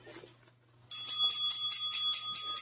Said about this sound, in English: that's the winner bell from Giz Giz Fizz.